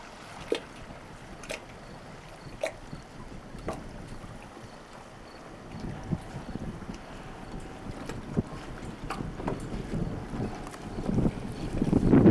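A boat motors across open harbor water in Nova Scotia with wind buffeting the microphone, a low engine rumble swelling louder toward the end, with scattered knocks and splashes.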